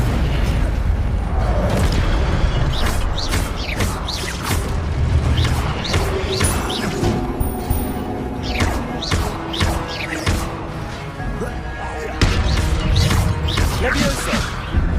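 Booming fire-spell blasts from the Incendio charm in Hogwarts Legacy burst repeatedly over a dense bed of game effects and character voices, with sharp crashes and thuds throughout.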